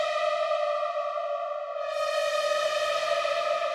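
A waterharp horror effect processed with delay and reverb: a sustained, eerie bowed metallic drone with stacked ringing overtones, swelling brighter partway through and continuing smoothly with a washy tail.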